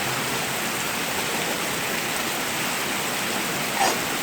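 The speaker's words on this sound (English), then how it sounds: "Rain's really coming down now." Heavy rain pours down outdoors, a steady dense hiss with no letup from start to finish, fairly loud and close, with only a faint brief knock near the end.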